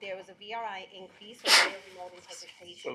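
A single sharp sneeze bursts out in the middle of a formal public committee meeting, loud and brief, rising over ongoing speech from a presenter who keeps talking before and after it.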